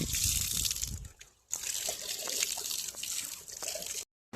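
Tap water runs and splashes as hands are washed under a village faucet, a close trickling stream broken by a couple of brief pauses, with no talking.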